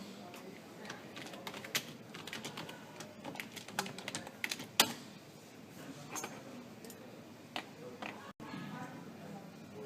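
Fingers type a message on a computer keyboard, a quick irregular run of close, crisp key clicks with occasional harder taps, carrying on steadily over low room noise.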